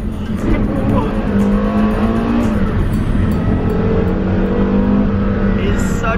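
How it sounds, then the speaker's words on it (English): Porsche Carrera GT with a naturally aspirated V10 revs hard while drifting, the loud, close engine wail rising and falling with brief tire noise, with someone talking over it. "this car, naturally aspirated V10,"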